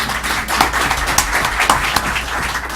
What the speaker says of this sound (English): oh, you can applaud. You can applaud for that.